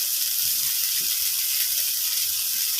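Shrimp and drumstick stems sautéing in a hot pan, a steady bright sizzling hiss with faint low clatters from stirring.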